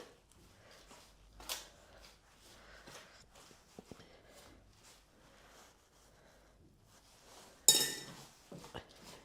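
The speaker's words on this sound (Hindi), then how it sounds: "इसको हम चम्मच से पहले इस तरह से मिला लेंगे" A spoon mixing a lukewarm jaggery mixture in a bowl: faint, scattered clinks and scrapes, with one sharper clatter near the end.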